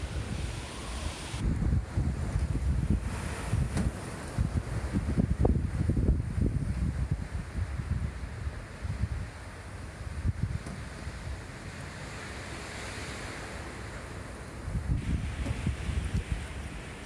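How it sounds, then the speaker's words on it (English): Strong wind gusting outdoors on a cold morning following a major windstorm, heard as a rough, continuous rush with louder buffeting surges coming and going. "Sounds like the winds are angry this morning."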